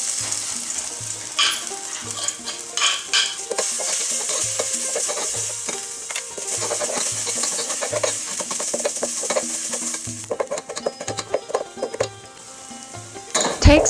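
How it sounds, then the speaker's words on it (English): Mashed garlic, peppers and cilantro stir-fry in a pot, a constant sizzling hiss broken by repeated utensil scrapes and clinks against the pot, with a louder clatter at the very end. "Now we're gonna stir fry the mashed garlic, peppers and cilantros."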